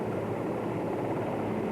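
Navy helicopter 001 landing on a recovery ship's fantail, a steady droning rotor and engine roar, continuous and fairly loud without breaks.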